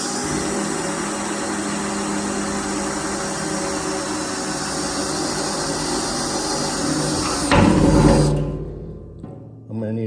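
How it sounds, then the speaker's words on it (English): A jigsaw cutting through a wood stove kit install, a loud continuous buzzing motor drone that runs steadily, surges near the end, then stops abruptly. "Like I said, I use a jigsaw."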